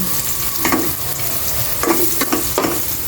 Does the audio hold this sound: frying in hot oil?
yes